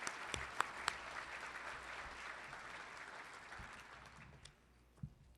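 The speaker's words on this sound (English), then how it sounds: "A big round of applause to all of our local leaders" Applause from a crowd at a chamber of commerce dinner sounds distant and quiet, tapering off, with a few sharper claps and thumps standing out.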